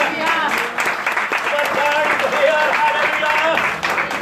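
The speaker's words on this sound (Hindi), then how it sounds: "ताली बजा दो, हालेलुया।" A congregation at a roadside prayer meeting claps continuously, the clapping running underneath a loud voice speaking over it.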